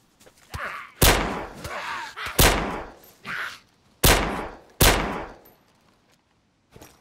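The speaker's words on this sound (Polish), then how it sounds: "O! Strzały." Several sharp, loud gunshots in the video game DayZ crack at irregular intervals, each with a short echoing tail, separated by quieter rustling and movement noises.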